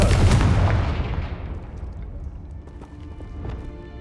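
A Confringo spell blast goes off in the Hogwarts Legacy video game, a loud close explosion that bursts at the start and then rumbles and decays into scattered debris sounds.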